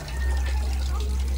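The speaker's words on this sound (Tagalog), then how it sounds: "Nagpaagas ko karon og tubig" Tap water runs in a steady, even stream while a cloth diaper is washed by hand, with someone talking over the flow.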